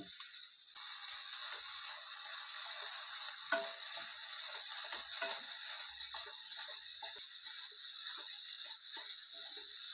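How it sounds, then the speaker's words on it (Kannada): Poha tipped into a hot pan and stirred with roasted gram, giving a steady sizzle with light scraping and ticking of the spoon against the pan, close and continuous, with no voices. "ಇದಕ್ಕೆ ನಾವು ಸಿದ್ಧಪಡಿಸಿಕೊಂಡಿರುವ ಈ ಅವಲಕ್ಕಿ ಇದನ್ನು ಇದಕ್ಕೆ ಹಾಕೊಳ್ತಾ ಇದ್ದೀನಿ"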